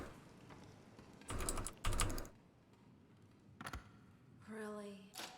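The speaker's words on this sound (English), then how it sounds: "I want to apologize if my keyboard is audible. I have a Razer keyboard. It's awful. It's loud." Loud clacking bursts from a Razer computer keyboard come in quick separate flurries of keystrokes, close up and alone, between quieter gaps.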